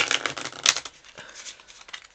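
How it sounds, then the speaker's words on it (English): A deck of One Deck Dungeon cards gets a quick shuffle close by, a short burst of soft riffling and crinkling flicks that fades out. "So I'm going to give these a quick shuffle"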